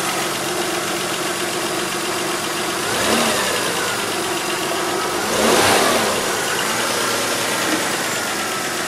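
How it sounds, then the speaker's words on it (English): A 1992 Toyota Camry engine, fitted with a hydrogen booster, idles loudly up close. Twice it revs up in short swells and falls back to a rough, steady idle. "So I'm gonna rev it up."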